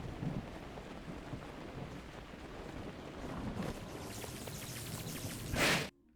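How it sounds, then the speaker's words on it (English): A video game thunderstorm in The Legend of Zelda: Breath of the Wild, with steady rain and a low rumbling wash of thunder throughout, swelling near the end into a brief bright crackle before cutting off. "Oh, there's also a lightning storm."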